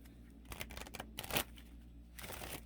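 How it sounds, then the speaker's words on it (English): Tarot cards shuffled by hand up close during a reading, heard as a few short, crisp riffling and sliding bursts separated by quiet pauses. "One more shuffle."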